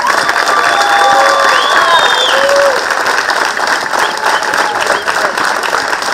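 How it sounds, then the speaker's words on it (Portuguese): A crowd at an international bombo drum congress in Mafra, Portugal, breaks into loud, sustained applause with scattered cheers and a few whistles, dense and continuous throughout. "Vou passar ao Luís, vosso anfitrião, a quem peço uma salva de palmas."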